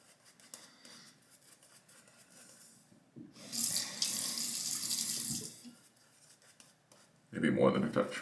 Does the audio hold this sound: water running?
yes